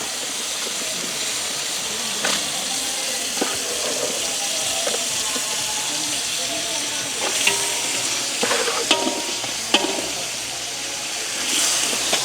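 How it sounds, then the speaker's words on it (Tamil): Meat marinated with salt and tamarind sizzles steadily as it fries in a pan with sautéed aromatics, a continuous broadband hiss broken by occasional scrapes and clinks of stirring. "நாங்கள் உப்பும் புளியும் பிரட்டி வச்சுருக்கிற இறைச்சியை இதோட சேர்க்க போகிறோம்."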